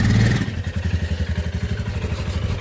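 Royal Enfield Himalayan motorcycle engine pulling in second gear: a loud, close, low single-cylinder thumping beat after a brief heavier burst, pulsing steadily and evenly with no talk.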